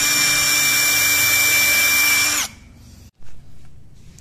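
Tekiro 20V cordless impact driver sinking a screw into hard wood, a loud steady high-pitched whine running alone for about two and a half seconds before cutting off, followed by faint handling noise and a brief knock.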